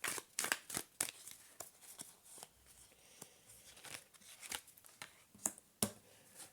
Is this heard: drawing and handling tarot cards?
yes